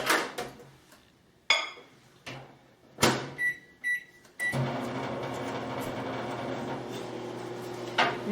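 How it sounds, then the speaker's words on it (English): A microwave oven melting butter: a door clunks shut, keypad beeps sound, then the oven hums steadily as it runs, close and clear with no talking. "we're going to melt a tablespoon and a half of butter in the microwave"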